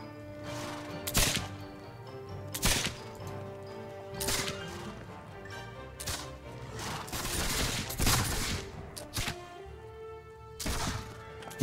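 Musket volleys crack out repeatedly in Mount & Blade: With Fire and Sword, a string of sharp scattered shots and ragged bursts roughly every second or two over a low battlefield din.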